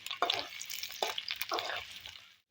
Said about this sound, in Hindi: फिर हम इसमें टमाटर शामिल करेंगे, थोड़ा मिक्स कर लेते हैं।